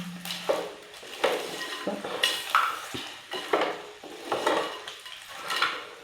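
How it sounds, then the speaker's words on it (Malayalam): A spoon scrapes and clatters through Kerala-style crab roast in a pan, several distinct stirring strokes in an uneven rhythm over a faint sizzle, close and fairly loud. "ഇതെല്ലാം കൂടി നമുക്കൊന്ന് ഇളക്കി യോജിപ്പിച്ച് കൊടുക്കാം."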